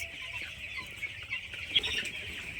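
Young broiler chickens, about fifteen days old, cluck softly and continuously inside a curtained poultry farm shed in winter, a dense, faint chorus of many birds with no one speaking.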